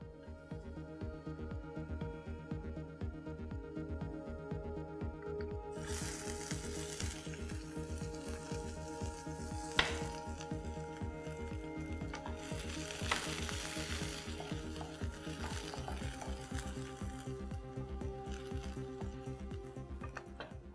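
Chopped onions and two red chillies frying in oil in a pan until golden brown, a steady close sizzle throughout with stirring scrapes and a few sharper clicks of the spoon.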